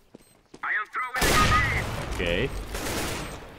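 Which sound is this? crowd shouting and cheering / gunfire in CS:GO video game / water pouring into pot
gunfire in CS:GO video game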